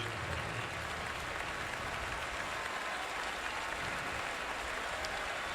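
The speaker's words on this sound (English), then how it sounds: "And polite applause" Polite applause from a Longhorn crowd at a Texas versus Baylor football game, a steady distant wash of clapping spread across the stands that holds evenly throughout at a low level.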